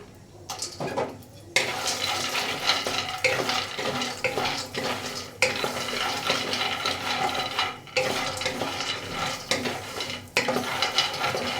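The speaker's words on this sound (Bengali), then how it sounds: "বাদামগুলো দুইবারে ভেজে নেব একবারে ভাজবো না" Peanuts are dry roasted in a pan and stirred continuously, giving a dense, close rattling and scraping that swells and pauses in bursts for several seconds.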